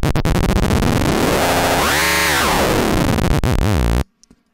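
A harsh, buzzy Massive synthesizer tone whose pitch is swept up and down by a sine LFO in a smooth wobbling arc, then cuts off abruptly into near silence.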